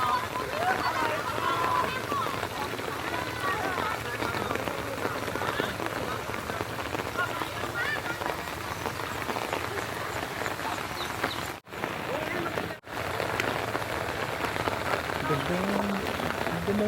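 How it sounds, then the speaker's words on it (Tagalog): Rain falls steadily on a farm field during work, a dense continuous patter that fills the background with brief dropouts, while people talk faintly in the distance. "kahit umuulan talaga"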